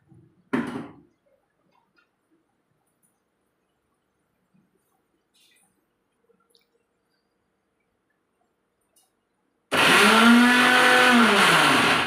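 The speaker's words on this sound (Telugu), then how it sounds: "ఈలోపు మిక్సీ పట్టుకుంటానండి" A mixer grinder (mixie) grinding carrot chutney starts up loud and runs steadily with a rising whine for the final couple of seconds, after a short clunk at the beginning and a long near-silent stretch.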